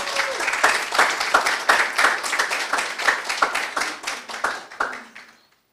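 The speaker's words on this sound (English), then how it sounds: "Let's give them a round of applause" Applause from an audience at an independence debate competition, a steady burst of many hands clapping close by that carries on for several seconds before fading out at the end.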